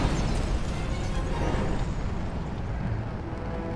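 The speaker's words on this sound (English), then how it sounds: "Release the rockets!" Rocket strikes in Command & Conquer 3: Tiberium Wars land as a rolling run of deep, rumbling explosions and bursts, loud and sustained throughout without a break and easing slightly toward the end.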